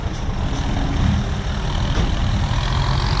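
Kubota M8540 turbo tractor working sticky wet soil in the rainy season, a heavy close diesel rumble that stays steady and low with slight surges, no voices over it.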